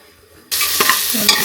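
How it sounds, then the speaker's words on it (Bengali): Elephant foot yam cooks in a pressure cooker, with a loud, sudden burst of sizzling and scraping stir sounds after a brief quiet moment, close and continuous. "এই যে রান্না করতেছি প্রেশার কুকারে ওল কচু"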